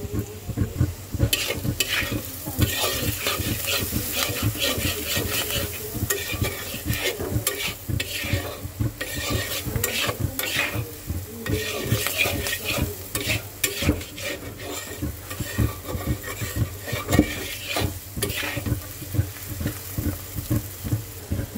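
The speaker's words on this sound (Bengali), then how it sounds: "এবার আলুটাকে একটু সুন্দর করে ভেজে নেব।" Potato pieces fry in a pan with turmeric, coriander powder and salt, giving a continuous close sizzle broken by frequent rhythmic stirring scrapes and clacks of a spatula, with no voices.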